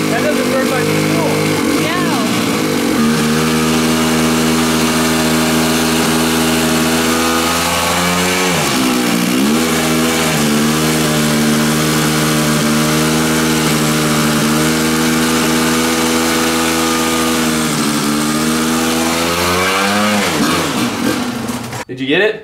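An engine fitted with a knock-off Chinese carburetor runs loud and close for about twenty seconds, holding a steady drone with two brief dips and recoveries in revs as it runs slightly lean.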